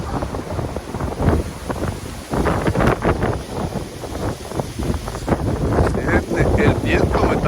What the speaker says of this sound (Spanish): El viento me está moviendo.